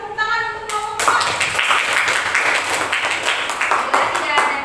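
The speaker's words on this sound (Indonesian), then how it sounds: "berikan tepuk tangan untuk kelompok 4" Classroom students clapping for presenting group 4 in an Indonesian lesson, a dense burst of many hands after a brief moment of talk, filling the room steadily to the end.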